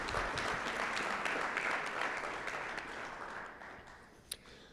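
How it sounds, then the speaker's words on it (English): A crowd claps in sustained applause for schools honored at a Military Signing Day ceremony in Ohio; the dense, steady clapping gradually thins and softens toward the end, with no one speaking. "let's give a round of applause to those schools who are not only doing it, but plan to do it"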